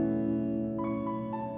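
Soulful R&B beat with layered ambient, spacious piano parts playing together in a steady, emotional blend, sustained chords filling the mix and a brighter melodic line entering partway through, with no talking.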